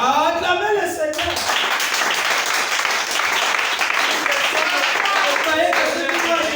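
A church congregation bursts into loud, dense clapping and cheering that swells and holds steady for several seconds after a preacher's voice, continuing as an enthusiastic, sustained roar.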